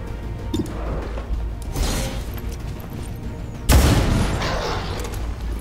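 Booming gunfire in the video game XCOM 2, a sustained rumbling blast followed by a second heavier, louder shot that rings out.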